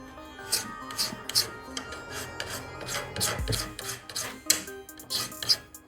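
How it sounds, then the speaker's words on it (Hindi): A hand file rasps a small wooden piece smooth in a series of short, close scraping strokes, irregular in rhythm with brief pauses and a dull knock midway. "उसको रेती से घिस के एकदम इकसार कर दिया"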